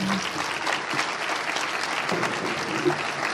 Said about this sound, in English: Another round of applause, please, for Dr. Perry.